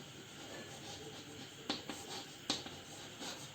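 Pen or marker scratching on paper or a board during a lesson on convex lens ray diagrams, soft and steady with a couple of sharper taps, close and quiet with no talking.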